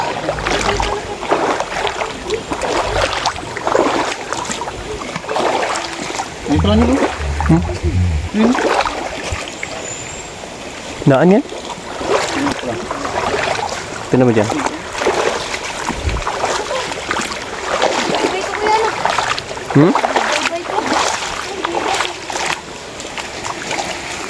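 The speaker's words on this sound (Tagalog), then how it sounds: "Medyo malakas-lakas na ang tubig dito guys. Ah, nagkatubig ng ilog." Rushing river water, swollen by a typhoon, flows steadily, with splashes and paddle-like knocks, while people talk intermittently over the continuous wash.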